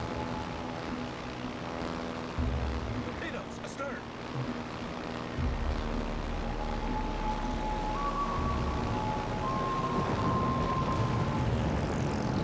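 Steady engine drone of aircraft squadrons flying overhead in the naval battle game World of Warships: Legends, a continuous low hum with faint higher tones, rising slightly partway through, with no talk over it.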